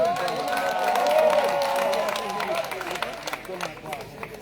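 An audience at a live concert cheers and claps to welcome the next performer, a loud swell of crowd noise that fades into scattered clapping, with voices mixed in.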